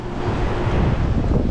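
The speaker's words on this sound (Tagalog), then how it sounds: "Ang lakas ng alon." Strong ocean waves roll onto a beach at Nasugbu, Batangas, a steady, loud, close wash of surf mixed with wind buffeting the microphone, with no voices.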